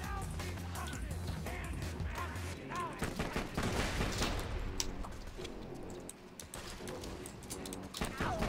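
Rapid gunfire bursts from the video game Borderlands 2, dense repeated shots and impacts with players talking over the combat.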